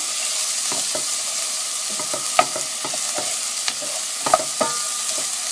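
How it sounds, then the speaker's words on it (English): A pan of onions, crushed garlic and red chili for a string bean, tomato and eggplant curry is stirred over medium heat, steady sizzling under a string of sharp spoon scrapes and clicks against the pan. "You could do this on a medium heat and do another mix. Stir it very well."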